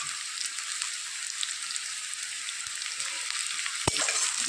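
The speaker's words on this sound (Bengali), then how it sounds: "পেঁয়াজ রসুনটা লাল লাল করে ভেজে নেবো একটু" Onion and garlic frying in a pan, a dense close sizzle with crackling spits throughout and a couple of sharp knocks from stirring, steady and alone.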